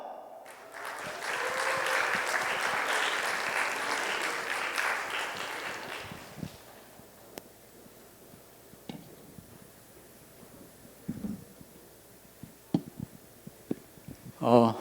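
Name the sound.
audience applause welcoming speaker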